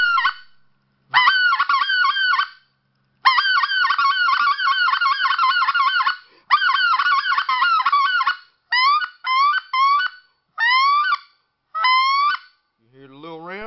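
A goose call blown in a series of honking bursts, a long run of clucks followed by shorter separated honks, loud and close with no voices.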